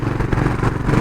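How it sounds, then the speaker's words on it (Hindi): A Honda CB350 RS motorcycle engine runs nearby with a steady, throbbing low rumble and slight mechanical clatter throughout the short stretch. "मैं आपको इस बाइक की आवाज़ सुनाना चाहता हूँ"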